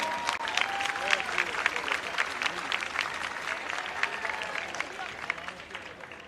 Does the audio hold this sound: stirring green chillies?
no